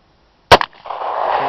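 A single sharp shot from a Bersa Thunder 9 pistol firing a 124 grain hollow point round, close and loud, followed by a brief echo and a rising hiss of background noise.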